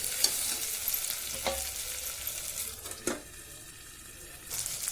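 Stuffed round okra fries in oil with a steady sizzle, and a spoon scrapes and knocks now and then as it is turned over, all close by.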